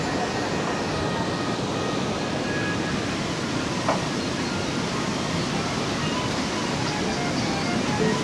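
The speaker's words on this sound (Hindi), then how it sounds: "देखिए मंदाकिनी नदी का फ्लो देखिए कितना प्यारा है, कितना तेज फ्लो है" The fast-flowing Mandakini river at Rambara on the Kedarnath trek, a steady dense broadband rush of water that stays loud and unbroken throughout.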